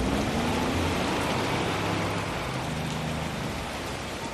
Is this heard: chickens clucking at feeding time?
no